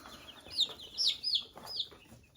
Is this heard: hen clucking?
yes